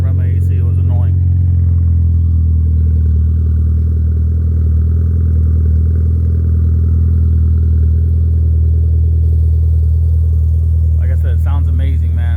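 A Mitsubishi Evo X with aftermarket cams idling, a loud, close, steady low rumble with a choppy lope, and brief voices at the very start and end.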